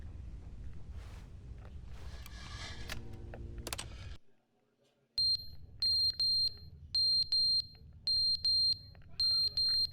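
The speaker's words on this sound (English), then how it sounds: "What's that beeping?" Electronic alarm beeping in The Stanley Parable video game: after a burst of other game sound and a brief silence, a loud high-pitched alarm sounds in steady repeated pulses, about seven evenly spaced beeps over a low background hum.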